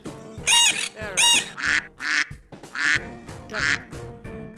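A duck quacks loudly and close in a rapid series of about eight harsh, nasal calls, some paired, with brief gaps between them and nothing else audible.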